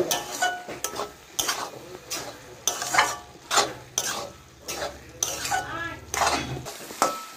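Spoon stirring bitter gourd in a frying pan, scraping and clinking against the metal in repeated bursts over a steady low sizzle, no voices.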